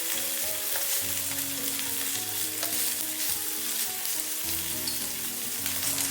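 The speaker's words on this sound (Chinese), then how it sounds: "我们煎的时候一定要给它勤翻动，避免五花肉粘锅" Starch-coated pork belly slices fry slowly over low heat in a pan, a steady close-up sizzle and crackle that runs without a break. Soft tones play faintly underneath.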